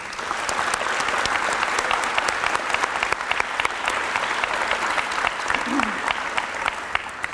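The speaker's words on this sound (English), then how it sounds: "Let's give them all a round of applause." Audience applause at a college practical nursing pinning ceremony, honoring newly graduated nurses; steady, dense clapping from a large crowd sustained throughout, with no break.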